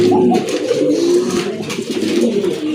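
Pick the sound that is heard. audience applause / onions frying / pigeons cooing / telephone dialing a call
pigeons cooing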